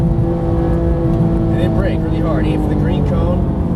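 A Porsche GT3 engine at full throttle drones loudly and steadily close by, a constant high-revving roar that holds its pitch, with brief rising and falling whines partway through.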